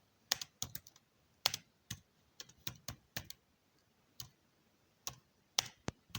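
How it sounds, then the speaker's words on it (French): Someone types on a computer keyboard, making irregular clusters of crisp key clicks with short pauses in between, close up and alone without talk. "Je vais taper ça"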